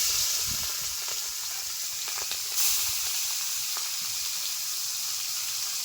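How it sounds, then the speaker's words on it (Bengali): Shrimp coated in salt and turmeric frying in hot oil, giving a loud, steady sizzling hiss with brief crackles and spits, close up and continuous. "তেল গরম হয়ে গেছে চিংড়ি মাছগুলো ভেজে নিচ্ছি"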